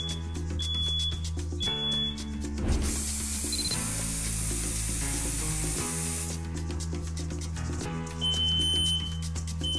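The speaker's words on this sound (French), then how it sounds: "la sonnerie stridente des 2 détecteurs de fumée les plus chers" Two pricey smoke detectors set off one after another by a smoke-test spray, each giving a loud, shrill electronic alarm. The tones run steadily, with brief hissing bursts from the spray between them.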